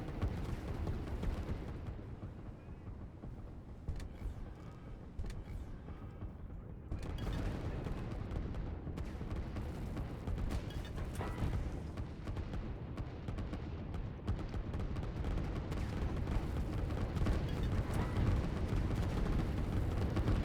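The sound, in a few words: artillery fire in Line War video game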